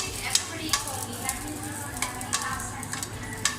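Garlic stir-fried in a pan with pepper and salt while preparing a homemade beef steak: a steady close sizzle and fry broken by regular scraping stirs of the utensil, with no voices.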